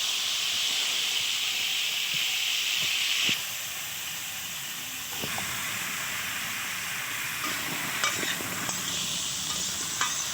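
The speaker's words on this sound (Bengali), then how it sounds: "দেখো দেখো আলুটা এবার ভেজে নেবো।" Potato pieces fry in hot oil in a pan, giving a steady close hiss and sizzle with occasional light stirring clicks; no one speaks.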